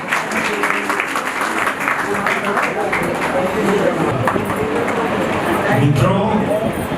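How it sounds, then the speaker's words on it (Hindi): An audience at a Hindi poetry gathering applauds, dense clapping that keeps going throughout and grows a little louder near the end, with voices and crowd murmur mixed in. "करतल ध्वनि से अभिनंदन।"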